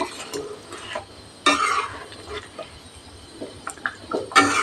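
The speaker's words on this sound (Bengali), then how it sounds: "মিক্স করে দিচ্ছি পাঁচ মিনিট হাই হিটে ফুটিয়ে নামিয়ে নেব" Spoon stirring katla fish curry in a pan on high heat, scraping and clinking in a few short bursts over a faint bubbling simmer, no voices.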